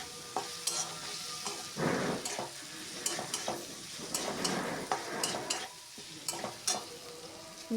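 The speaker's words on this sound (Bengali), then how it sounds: "রসুনটা দিয়ে আবার কিছুক্ষণ নেড়ে চেড়ে কষিয়ে নেব।" Grated garlic stir-frying in a pan for a Bengal-style chana dal with coconut: a steady hiss of sizzling oil, with scraping and stirring strokes at irregular intervals. It is close and moderately loud, with no talking.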